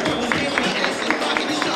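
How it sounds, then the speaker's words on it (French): An audience claps steadily for a model walking in an amateur makeover fashion show in France. The dense applause runs for the whole moment, with a few sharper claps poking out now and then. "Applaudissements pour Marie, s'il vous plaît."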